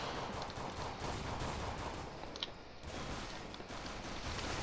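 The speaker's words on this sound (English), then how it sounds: "I'm being shot at already, so let's move" Dense, continuous gunfire from a Counter-Strike: Global Offensive match, sustained bursts packed together at steady loudness with no pauses, carrying on alone without talk.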